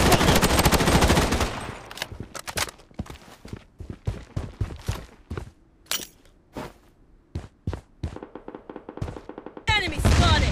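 Automatic gunfire in the mobile shooter Project Bloodstrike, rapid bursts of close, sharp shots at first, then scattered single and short volleys with gaps, plus footsteps and brief game voice callouts.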